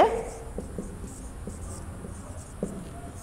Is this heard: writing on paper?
yes